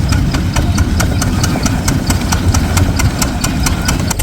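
A tractor engine runs steadily at close range in a village setting, with a loud, even chugging beat of regular knocks and a deep rumble throughout.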